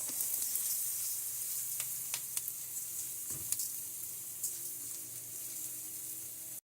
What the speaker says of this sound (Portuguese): E vamos refogar um pouquinho esse arroz.